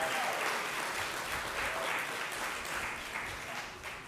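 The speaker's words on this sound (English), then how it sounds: "huge round of applause for my team," A dense, sustained wave of audience applause fills a philanthropy event hall, loud and even from the start and tapering slightly toward the end.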